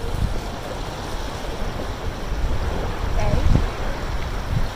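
Steady wind roar and washing ocean surf on a Florida beach, a continuous broadband rush that swells slightly midway, with muffled wind buffeting on the microphone and no clear voices.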